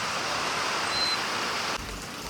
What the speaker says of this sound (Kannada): ಮಳೆ ಮಾತ್ರ ಜೋರಾಯಿತು ಫುಲ್ಲು.